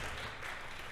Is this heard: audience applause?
yes